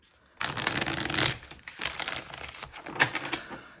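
Crisp papery riffling and rustling of tarot cards being shuffled up close, in a few bursts separated by short pauses, with no talking.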